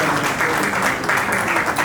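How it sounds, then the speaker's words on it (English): An audience at a Rotary Club meeting applauds, giving a brief burst of dense, loud, steady clapping from a crowd in a room. "A big round of applause for Dr. Lalit Asija and his team."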